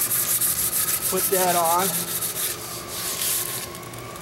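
A sanding pad rubs back and forth by hand along a wooden hand rail in a rhythmic scratchy rasp, with a short spoken phrase briefly over it.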